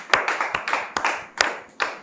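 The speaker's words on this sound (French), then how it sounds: "Merci donc de recevoir sous vos applaudissements notre invité de ce soir." Sparse, separate hand claps from a small audience welcoming a guest onto a talk show set, about six sharp, close claps in an uneven rhythm over two seconds.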